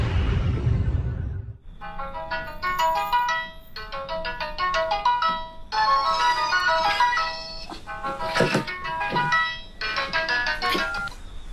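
A ringtone plays in bursts of bright repeating melodic tones, loud and close, after a short rumbling splash at the start, with no talk over it.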